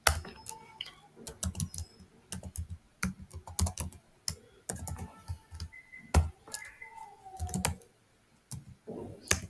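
Code being typed on a computer keyboard: bursts of close, crisp key clicks in uneven runs with brief pauses, no speech over them.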